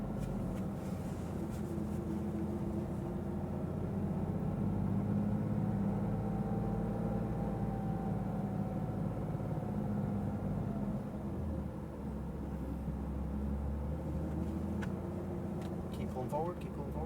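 A Porsche GT3 RS engine hums low and steady at track speed for an extended stretch, with an instructor's voice talking over it throughout.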